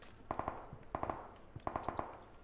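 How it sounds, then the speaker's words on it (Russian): Rapid bursts of gunfire in a squad shooter video game, three quick volleys of sharp shots in a row, fairly faint and without talking. "А, стрельба"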